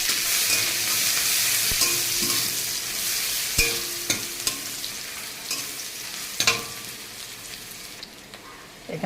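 Chopped onion hits hot oil seasoned with two bay leaves, giving a steady close sizzle with scattered clicks and spoon scrapes from stirring, and no talk.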